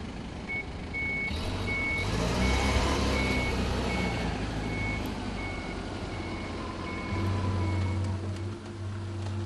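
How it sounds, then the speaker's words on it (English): A Linde H35T forklift backs up in a warehouse storage maneuver, its reverse alarm beeping in an even, regular series over a steady engine drone, moderately close. "Reverse is then selected, the inch brake released, and the accelerator pressed down to back away."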